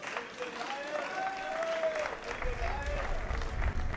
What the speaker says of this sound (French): on peut les applaudir pour ça